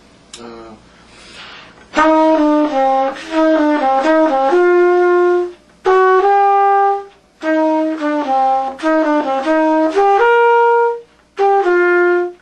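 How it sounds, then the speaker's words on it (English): A single melodic instrument plays a slow jazz tune without swing, in even, straight phrases separated by short pauses, clear and close with no accompaniment. "I'll play it with no feeling hardly, just not swinging any of that"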